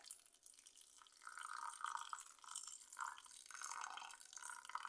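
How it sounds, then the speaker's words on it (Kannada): Water trickles and splashes into a pot of onion sambar in uneven bursts, fairly faint and close, with no talking. "ನೋಡಿ ಈಗ ಸ್ವಲ್ಪ ನೀರು ಹಾಕ್ತೀನಿ"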